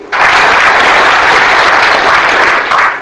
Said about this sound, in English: So now I have demonstrated few things just by clapping.